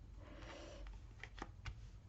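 Tarot cards are laid out on a table, giving three or four soft, quick slaps and slides near the end of a quiet, close stretch.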